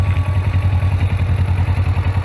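A motorcycle engine runs at a steady, throbbing idle close by, its low pulsing rumble repeating evenly throughout.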